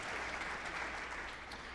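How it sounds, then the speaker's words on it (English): An audience at a school band concert claps in a brief, even round of applause, a steady dense patter of many hands at moderate level throughout. "So please give them a round of applause."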